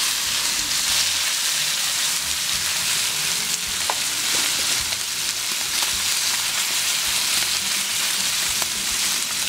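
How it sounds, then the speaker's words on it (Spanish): Bacon sizzling in a pan for arroz navideño, a steady loud crackle and hiss of frying fat with scattered sharp pops throughout, no voices. "ya empieza a dorarse el tocino"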